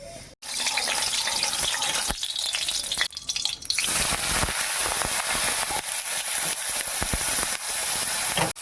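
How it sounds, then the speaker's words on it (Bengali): Dried lote fish frying in oil, a loud hissing sizzle that bursts up after a brief pause and then holds steady and close, flecked with sharp crackles, with nobody speaking. "তেল দিয়ে শুটকি মাছগুলো একটু ভেজে নিই বন্ধুরা"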